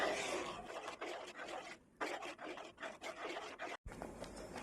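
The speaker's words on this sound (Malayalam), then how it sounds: "നമുക്ക് കൈ വിടാതെ തന്നെ ഇളക്കി കൊടുക്കാം." Jackfruit halwa being stirred in a pan on the stove over a high flame, giving rhythmic, close scraping strokes with a few brief pauses and no voices.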